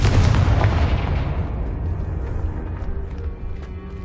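A Confringo blasting spell in Hogwarts Legacy detonates as a single loud, heavy explosion at the start, its deep rumble fading away over several seconds.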